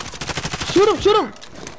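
Rapid automatic gunfire from a first-person shooter game, a fast rattling burst running through the whole stretch, with an excited voice shouting over it.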